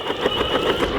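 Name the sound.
electric skateboard with a broken motor belt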